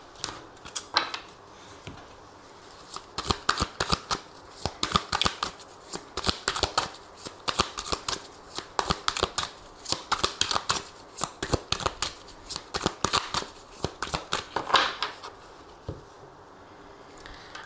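Tarot cards are shuffled close up in a long run of crisp riffling and flicking bursts that come in uneven rhythmic clusters and continue for about seventeen seconds with no voice.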